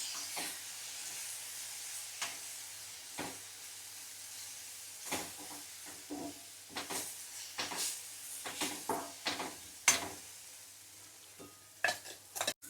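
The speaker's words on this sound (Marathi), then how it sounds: "कोथिंबीर खोबरं लसूण वाटण करून घेतलेले आपण मसाल्याला चांगलं तेल फुटेपर्यंत आपण हे परतवायचं" A coriander, coconut and garlic masala paste fries in hot oil for a prawn masala, with a steady sizzle and irregular scraping stirs of the spoon through the pan, close and without talk.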